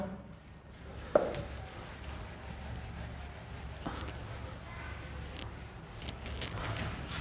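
Duster or cloth rubbing writing off a classroom board during a physics lecture, heard as soft, continuous scrubbing strokes with a sharp knock early on, fairly faint against room noise.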